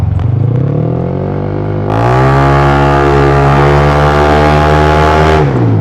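A Honda Giorno 160cc scooter, remapped and with a CVT tune, revs through a loud aftermarket exhaust: a steady close idle that swells into a long, sustained, droning high rev before dropping back.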